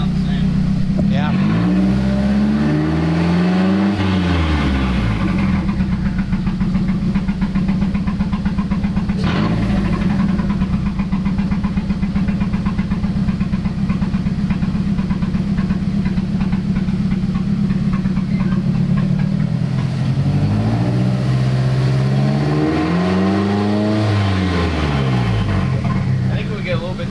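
A turbocharged engine runs after a turbo manifold install, holding a steady idle, with two rises and falls in revving, while people talk nearby.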